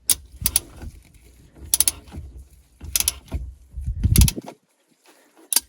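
Wrench work on a Loctite 243-fixed bolt in a 951DI direct-injection jet ski engine, heard as repeated short ratcheting and metallic clicking bursts in a close, quiet workshop, each burst separated by pauses.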